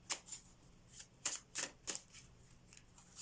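Oracle message cards being shuffled by hand for a card reading, a series of crisp riffling bursts in an uneven rhythm, close and fairly quiet, with no talking.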